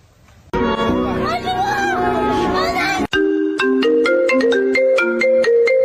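A melodic phone ringtone chimes loudly in a repeating pattern of bright tones, following a burst of busy music and chatter.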